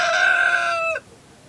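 A rooster's drawn-out crow from the family's fowl, loud and nearby, ends abruptly after about a second into near silence.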